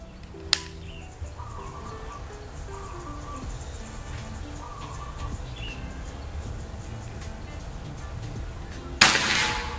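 A single sharp shot from an upgraded Predator PCP air rifle fired outdoors at a 50-meter target, a brief crack near the start, then quiet with faint birdsong and a louder burst near the end.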